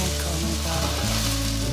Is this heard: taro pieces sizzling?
yes